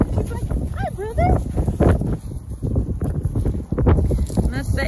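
Strong Amarillo wind blows steadily outdoors with low rumbling buffeting, while voices talk over it and a dog whines and barks nearby.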